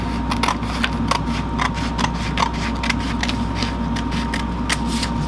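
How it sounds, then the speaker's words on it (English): Scissors snip through a sheet of paper in a quick run of crisp, close cuts at an uneven rhythm over a faint background hum. "I'll get this rectangle here where I am going to cut this out"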